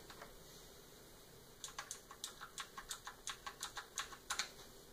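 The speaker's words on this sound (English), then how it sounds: "you can see it actually typing onto the keyboard, onto the screen" Rapid keystrokes on an Mpow I-500 mechanical gaming keyboard with blue switches, a quick run of about fifteen sharp clicky taps close up, starting after a quiet pause and ending in a couple of louder presses.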